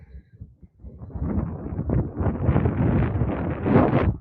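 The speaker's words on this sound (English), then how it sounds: "It was very windy." Gusty wind on a hillside in Peru buffets the microphone with a low, rumbling roar that swells after a quiet start and stays strong.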